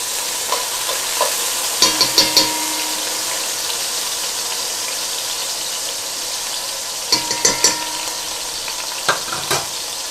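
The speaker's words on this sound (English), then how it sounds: "I want to saute my garlic and my onions" Garlic and onions sautéing in a pan on a home stove, a steady hiss of frying with a few clinks and stirring scrapes at intervals.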